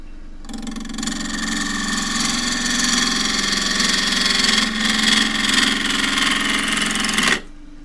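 A wood lathe spins a eucalypt burl while it is trued up, giving a steady motor hum with a tonal whine that starts abruptly, holds loud and even for several seconds with slight rises as the tool bites, then stops.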